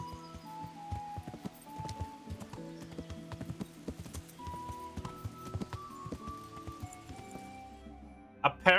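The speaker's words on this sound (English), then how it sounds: "There's our lovely horsey friend." Horse hooves clip-clop steadily in the Kingdom Come video game, a close, regular beat over light music, ending with a short whinny; a voice talks over part of it.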